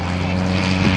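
A comedy airshow plane at the Blue Angels Homecoming Airshow flies low overhead, its propeller engine giving a steady, loud, continuous drone throughout with a slight swell near the end.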